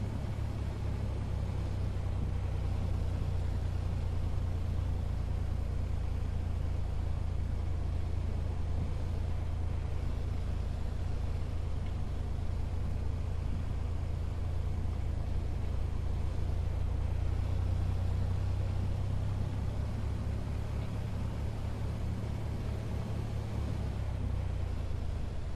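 A Piper Comanche 250 light aircraft engine runs steadily during a pre-flight run-up, giving a loud, continuous low drone that holds throughout with no breaks.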